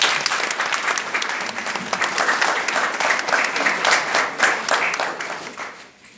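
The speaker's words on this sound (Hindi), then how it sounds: "ताली बजाइएगा।" Wedding guests in a Christian church break into sustained applause: dense, steady clapping from a crowd that fades toward the end.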